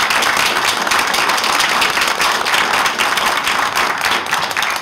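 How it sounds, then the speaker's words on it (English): A room of meeting attendees at a community streets initiative gathering applauds the co-chairs, dense steady clapping filling the space at an even level throughout. "I would like to ask for a round of applause for our co-chairs"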